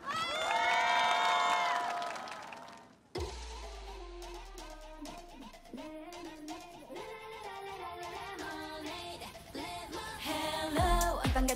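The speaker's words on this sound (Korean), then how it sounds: "큰 박수와 함께 반겨주시죠." A concert crowd at the 2023 One Asia Festival Park Concert in Busan cheers and applauds to welcome a girl group, a loud burst of shouts, then the group's upbeat pop music abruptly starts and carries on.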